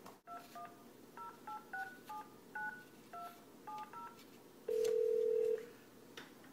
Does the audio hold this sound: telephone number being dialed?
yes